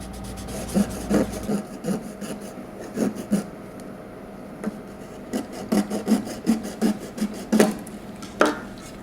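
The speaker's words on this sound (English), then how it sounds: "And just do some sanding." Repeated gritty rubbing strokes of wet 600-grit sandpaper on a custom figure repaint, an uneven back-and-forth rasp close by with brief pauses.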